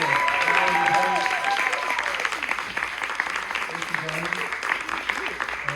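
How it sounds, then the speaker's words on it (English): A bookstore audience gives a round of applause for an author at a Q&A and signing event, with steady, dense clapping throughout and voices mixed in underneath. "let me round of applause for Chuck Tingle"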